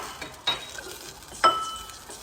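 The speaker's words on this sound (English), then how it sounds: "Give that a stir." A spoon stirs bubbling ramen sauce with mirin in a pan: a soft continuous simmer with two clear clinks of the utensil against the pan, close and moderately loud.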